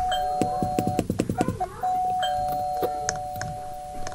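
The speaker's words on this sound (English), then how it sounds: "Ring the bell as well." A doorbell rings in the Roblox game Brookhaven. A sustained electronic chime is held, then repeats after a short gap, over a fairly loud bed of clicks, thumps and other game effects.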